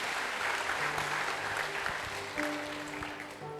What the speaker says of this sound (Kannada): ಅವರು ಜೋರಾಗಿ ಒಂದು ಚಪ್ಪಾಳೆಯನ್ನು ತಟ್ಟುವ